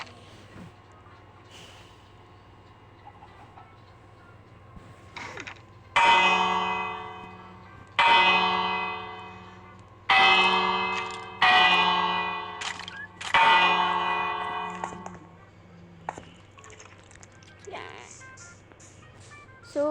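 A church bell in Minecraft rings out in several strong, separate strikes, each leaving a long resonant ring that decays slowly, with a faint voice and steady hum underneath.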